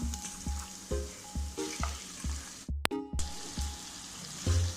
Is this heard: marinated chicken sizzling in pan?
yes